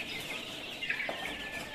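Chickens on an Indonesian poultry farm cluck in short, faint bursts over steady background noise, with no voices present.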